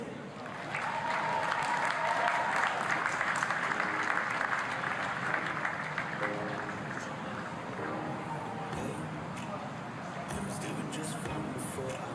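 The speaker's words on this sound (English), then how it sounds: "So give them a round of applause." A stadium crowd applauds at a youth football league championship medal ceremony in Australia, a broad sustained wash of clapping with crowd noise and an announcer's voice over it, carried by a loud public address system.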